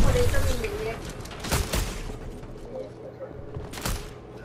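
Scattered gunfire in Fortnite: a few sharp shots and bursts, moderately loud, under a person talking.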